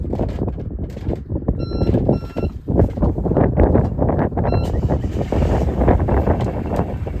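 A sailboat's engine is started after repairs, giving a loud, steady rumbling run with wind buffeting the microphone and a few brief high beeps partway through.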